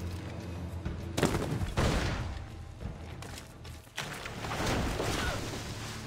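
Bursts of gunfire from the video game Assassin's Creed IV Black Flag come in loud, clustered volleys over a continuous rumbling game backdrop, with short lulls between the shots.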